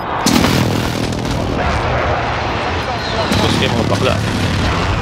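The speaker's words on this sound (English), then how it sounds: "Be advised, friendly precision airstrike inbound." Precision airstrike in Call of Duty: Warzone, a rolling series of heavy booms and rumbling blasts filling the mix, with a player talking over the barrage.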